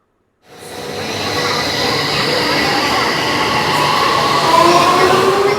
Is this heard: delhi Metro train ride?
yes